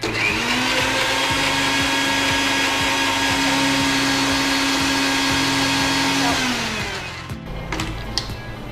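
A mixer grinder blending okra chutney whirs loudly and steadily for about seven seconds, then winds down and stops, leaving a few faint clinks.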